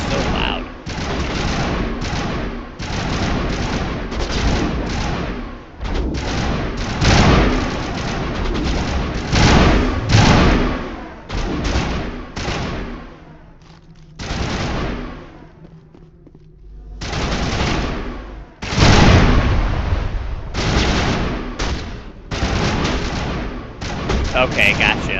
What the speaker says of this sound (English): God, the gunshots are so loud.